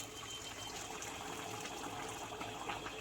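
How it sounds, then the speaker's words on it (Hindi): Hot water is poured into a simmering potato and fish stew, a steady, soft gushing stream that runs without a break. "अभी गर्म पानी देती है।"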